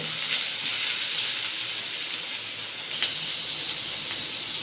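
Onions and green chillies frying in a hot pan, giving a steady, close sizzling hiss throughout with a few brief louder crackles.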